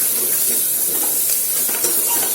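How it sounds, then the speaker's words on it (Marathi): Vegetables stir-frying in hot oil in a pan for a dal and brinjal dish, a steady close sizzle and hiss with faint stirring scrapes, no voices. "याला पण छान तेलामध्ये परतून घ्यायचं"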